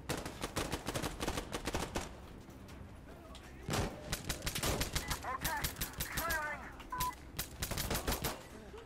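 Rapid bursts of gunfire in the tactical shooter Insurgency Sandstorm, dense strings of close shots for the first two seconds and then more scattered volleys, with players talking over the shooting.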